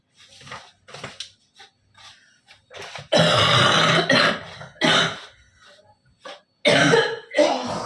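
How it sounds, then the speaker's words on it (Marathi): A person nearby coughs repeatedly in short, harsh bursts separated by pauses, several of them loud and raspy, with some throat clearing between them. "खोकला बघा खोकला"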